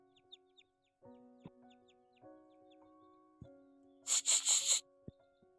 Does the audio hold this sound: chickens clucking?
yes